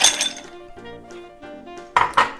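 Ice cubes dropped into a glass mixing glass while making a piña colada old fashioned rum cocktail, giving a couple of bright clinks and rattles, the loudest two near the end, fairly close with no talk.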